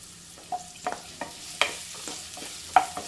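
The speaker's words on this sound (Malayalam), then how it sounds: "ഒന്ന് സോട്ട് ചെയ്താൽ മതി. ഒരല്പം ഉപ്പ് ഇട്ട് കൊടുക്കാം." Chopped onion being stirred and sautéed with a pinch of salt in a pan for a papaya dish, giving a soft sizzle with several brief scraping stir strokes, close and moderately quiet, no talking.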